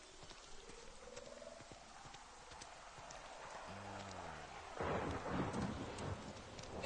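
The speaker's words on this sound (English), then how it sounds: "It's raining." Rain and thunder in the video game The Outer Worlds, a faint steady downpour with a deep rumble swelling into a louder crack near the end, and voices speaking over it.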